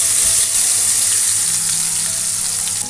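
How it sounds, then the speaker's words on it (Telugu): Onion paste sizzles in two tablespoons of hot oil, a loud steady hiss that stays close and even throughout the egg curry preparation, with no talking. "ఇప్పుడు మనం ముందుగా గ్రైండ్ చేసి పెట్టుకున్న ఉల్లిపాయ పేస్ట్ని ఇందులో వేసుకుందాం"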